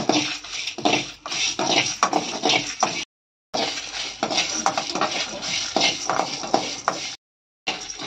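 Fenugreek, chana dal, pepper and dried chilies are dry-roasted in a pan for rasam, with a busy rattling and scraping of seeds and a stirring utensil against metal, loud and continuous apart from two brief gaps.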